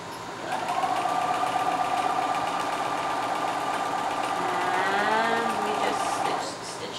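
A sewing machine stitching a facing seam on a garment hums steadily and close for about six seconds, its motor pitch rising slightly toward the end before it stops.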